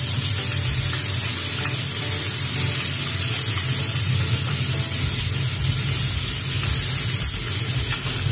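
Spice paste hits hot oil already tempered with whole cumin and bay leaf for a spinach and pomfret fish dish, producing a loud, continuous, dense sizzle that stays steady throughout.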